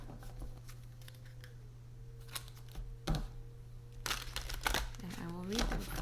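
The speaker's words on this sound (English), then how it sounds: "This is the oracle deck I'll be using, the New Orleans oracle deck. And we will pull 3 cards." Cards are pulled from a New Orleans oracle deck: close papery shuffling, crinkling and sharp snaps, busiest toward the end, with a voice at times.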